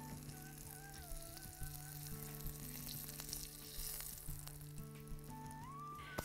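Chickpea-flour steak frying in a pan, giving a steady close sizzle with soft crackles throughout, faint and alone with a light hum of kitchen background.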